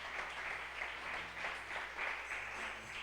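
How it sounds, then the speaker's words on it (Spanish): A church congregation applauds the Lord during a service, dense, even clapping from many hands rolling on steadily at a moderate distance with no talking over it. "Si es así, denle un aplauso al Señor y colóquese en pie,"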